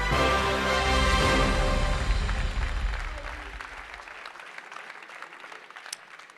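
At the 2023 Mayenne sports awards ceremony, an audience gives Elliot Brunet, young athlete of the year, a burst of loud, dense applause that gradually thins and fades into scattered claps.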